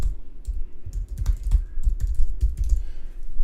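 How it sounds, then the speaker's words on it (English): Fingers type a web address on a computer keyboard in a quick, irregular run of close, crisp key clicks with small pauses between bursts. "go ahead and type in https://www"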